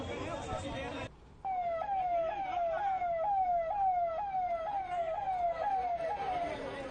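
Ambulance siren arriving at an MP-MLA court in Uttar Pradesh, a repeating wail that sweeps up and down loudly over road noise after a brief burst of other sound at the start.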